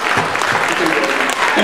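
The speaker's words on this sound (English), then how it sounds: "And big round of applause to our committee." An audience applauds steadily at a committee thank-you event, the dense clapping loud and close for the whole stretch with no voice on top.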